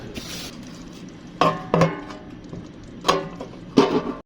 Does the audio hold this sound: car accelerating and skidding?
no